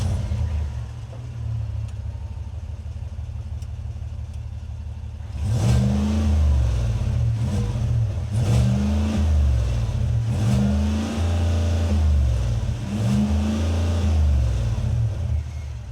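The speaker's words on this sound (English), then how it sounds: "let's go ahead and start that engine up so you guys can hear what it sounds like real quick" A 2025 Cadillac Escalade Platinum V8 sits at a low idle, then fires into a louder rumble and gets several deep, throaty revs in a steady rhythm, close and loud with no talking.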